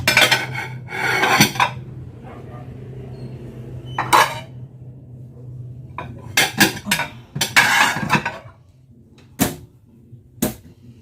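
Plates and spoons clink and clatter in short bursts as dishes are set down and arranged, with quiet pauses between the knocks.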